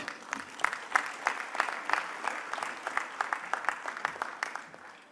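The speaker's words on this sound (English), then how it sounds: "Ladies and gentlemen, I encourage you to give a fantastic round of applause" Audience applauding at the MEWA 2025 grand inauguration ceremony, a crowd clapping with a lively, uneven rhythm of distinct claps, moderately loud and fading toward the end.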